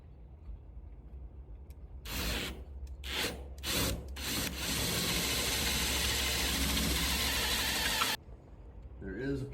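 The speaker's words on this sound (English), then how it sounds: "let's drill this sucker out" A drill bores out a hole on a 1981 Corvette, first in a few short grinding bursts, then in a long, steady, loud run that stops abruptly, followed by brief faint noise.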